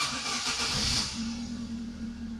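A 2012 Chevrolet Prisma engine cranks and catches with the spare key, a brief whirring start that settles into a steady, close idle hum.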